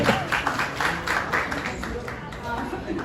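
Audience applause fills a Chhollywood (Chhattisgarhi film) awards ceremony, the Smart Cinema Award 2025, as a dense, steady wash of clapping from a crowd that carries on throughout.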